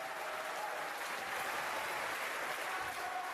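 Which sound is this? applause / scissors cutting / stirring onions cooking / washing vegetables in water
applause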